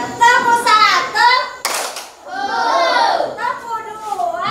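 Children in a classroom give one sharp, loud clap partway through, with young voices chanting before and after it.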